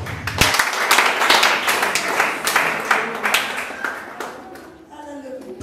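A church congregation claps and applauds in praise of God, a dense, steady wash of many hands that fades toward the end.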